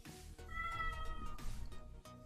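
A cat in Minecraft gives a drawn-out, tonal meow lasting over a second, loud and close with no talk over it, and a short sound comes just before it.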